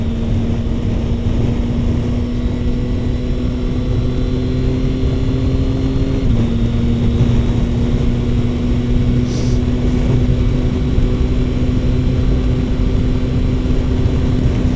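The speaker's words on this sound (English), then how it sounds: "when the wind hits the windshield" Yamaha Tracer 9 motorcycle at road speed, its engine drone steady beneath a constant broad rush of wind over the windshield, loud and unbroken throughout with a slight pitch change partway.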